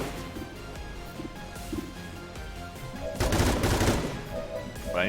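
Suppression gunfire in XCOM 2: a sustained, loud burst of rapid automatic shots rises over ongoing game sound in the last couple of seconds, with no speech.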